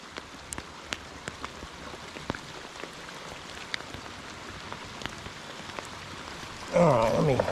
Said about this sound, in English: Oh, big raindrops, wonderful.